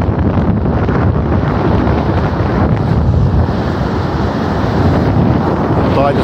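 Strong wind buffets the microphone over a steady wash of surf at the pier on Milnerton Beach as the tide goes out, a loud continuous roar with no breaks.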